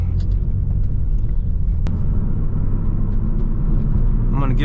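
A 1995 BMW 325i E36 pulls onto a highway with a loud, steady engine and road rumble filling the cabin. A driver talks over the noise, and a sharp click sounds midway.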